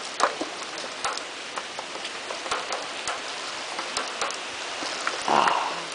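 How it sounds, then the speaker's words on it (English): Heavy rain from a strong to severe storm pours steadily on surfaces, with scattered sharp drops and a brief louder gust of spray near the end; no voices. "Ah, cooling rain."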